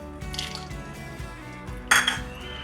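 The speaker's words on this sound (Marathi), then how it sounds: "आता त्यामध्ये टाकणार आहोत बदाम" Whole almonds dropped into hot ghee in a kadhai give a sudden, close sizzling burst partway through, over steady background music with a low rhythmic beat.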